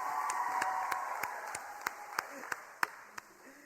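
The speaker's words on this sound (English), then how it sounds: "Round of applause for our cheerleaders." A small press-conference audience claps for cheerleaders at a free healthcare clinic announcement, with scattered, fairly sparse hand claps that sharpen into a few distinct slaps near the end over a humming room.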